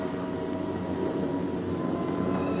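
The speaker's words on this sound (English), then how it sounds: "Every ear strains for the first sound of the engines." B-17 Flying Fortress bombers approaching an airfield, a steady dense drone of multiple piston engines, loud and continuous without pause, with no voices.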